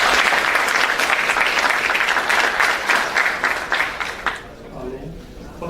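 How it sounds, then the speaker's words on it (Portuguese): An audience at a tech talk on API design applauds the incoming speaker, dense sustained clapping filling the room for about four seconds before fading to a quiet murmur. "Salve de palmas para ele."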